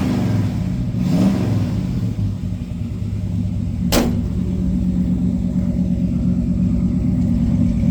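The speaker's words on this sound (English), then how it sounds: "Let's just listen to that exhaust." A deep, steady exhaust rumble from a 1957 Chevrolet 3100 pickup truck with long chrome tailpipe tips idles continuously at close range, with a brief sharp click partway through.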